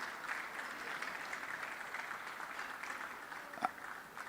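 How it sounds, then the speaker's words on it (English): Applause from an audience at a gaming expo, steady but faint and distant-sounding clapping that continues throughout, with one sharper clap standing out near the end. "Please, a round of applause for Mrs."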